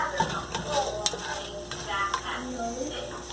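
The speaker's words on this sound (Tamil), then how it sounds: "பெருஞ்சீரகம் கொஞ்சமாக போட்டுக்க போகிறேன். இது லைட்டாக வந்து வதங்கட்டும்." Fennel seeds sautéing in a pan for pressure-cooker biryani, a light sizzle with close, irregular scrapes and clinks of a spoon stirring against the metal.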